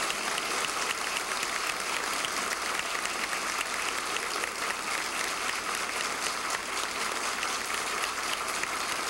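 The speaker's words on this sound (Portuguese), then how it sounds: "Agora vocês querem aplaudir, então vamos aplaudir o nosso padre." An audience in a church applauds a priest, with dense, steady clapping from many hands that holds at an even level throughout and has no voices over it.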